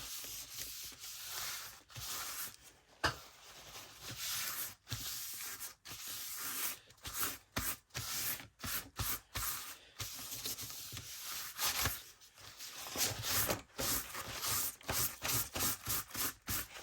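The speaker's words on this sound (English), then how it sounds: "going to give it just a little roughing up with the sandpaper" Sandpaper rubs across junk mail paper in quick, close scratchy strokes, a dry rasping hiss broken by brief pauses, with no talking.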